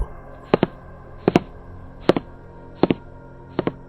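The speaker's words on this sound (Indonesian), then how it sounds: "Jelas sekali suara hentakan kaki orang berjalan menggunakan sepatu." Footsteps of a person walking in shoes, five sharp heel-toe double taps at a steady unhurried pace, fairly close, over a faint low hum in a quiet room.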